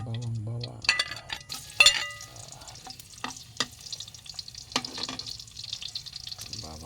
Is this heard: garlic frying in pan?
yes